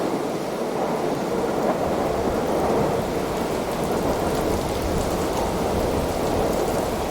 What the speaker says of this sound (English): Because the storm is kicking in.